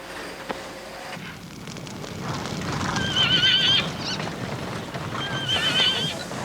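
Mustang horses whinny twice over a steady bed of hoof clip-clop and herd movement, the neighs loud and close against continuous outdoor rumble.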